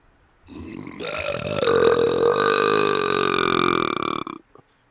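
A long, loud, drawn-out belch rumbles for several seconds up close, with a rising tonal quality before it trails off.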